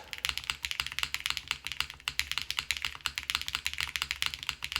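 Dense, steady keystrokes on a Wuque Paper80 mechanical keyboard fitted with GMK keycaps, a continuous run of close, crisp clacks with no speech.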